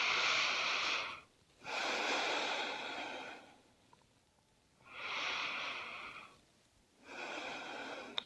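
Slow, deep breathing held during a gentle yoga pose: two long, airy inhale-exhale cycles, close and steady, with no talk.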